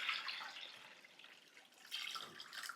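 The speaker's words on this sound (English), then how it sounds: "I'm just going to pour this in here" Water poured from a measuring cup into a garden container to soak fertilizer, a soft splashing trickle that swells at the start and again near the end, close and fairly quiet with no talk.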